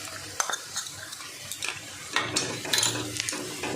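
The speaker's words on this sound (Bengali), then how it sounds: "একটু জল দিয়ে মশলাটা কষিয়ে নেব।" Spice paste of cumin, chili and coriander powders with a splash of water is stirred and fried in a pan, giving quiet sizzling with irregular scraping and clinking of a utensil against the metal, close up.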